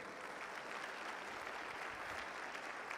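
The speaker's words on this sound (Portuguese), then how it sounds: "Dá um aplauso aí ao Senhor" A church congregation claps in praise to the Lord, a steady, faint wash of applause from a large crowd that holds evenly and carries no speech.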